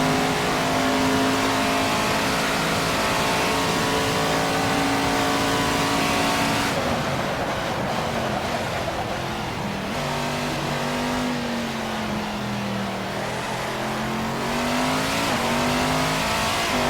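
Race car engines in the video game Assetto Corsa roar continuously at high revs down the straights, their pitch shifting as they accelerate and pass, loud and unbroken throughout.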